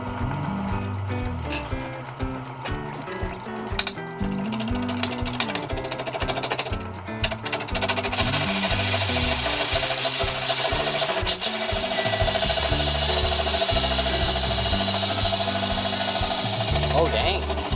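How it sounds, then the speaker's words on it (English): A vintage lathe's motor runs under rebuild, giving a steady mechanical hum with rhythmic clattering pulses that grow a little louder partway through. "That motor sounds good."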